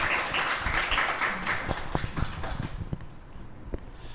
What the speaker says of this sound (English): So big round of applause for these folks.